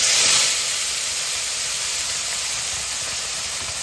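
Onion, ginger and garlic paste goes into a hot pan for a chicken dish, setting off a loud hiss that surges at first and then settles into a steady, even sizzle.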